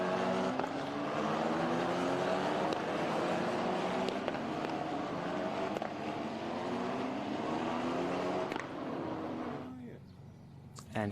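Formula 4 race cars in Kuwait pull away at the race start, a dense layer of engines rising through the gears together under a commentator's voice, then fading near the end.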